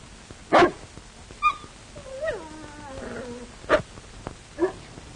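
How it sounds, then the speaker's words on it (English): A dog whimpers and gives a few sharp barks and yips, spaced out over several seconds at moderate distance, with whiny tonal cries between the louder bursts. "That looks like the dog I saw you feeding at the game warden's grave."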